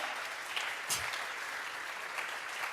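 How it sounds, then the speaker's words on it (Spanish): Church congregation applauding together, a steady wash of clapping at moderate loudness with a brief swell near the middle and no voices over it. "vamos a regalarle ofrenda de palmas al Dios de la gloria"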